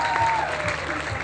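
A crowd in Polkowice's town square claps loudly and densely, celebrating the women's basketball team winning the Polish championship, with voices carrying over the applause.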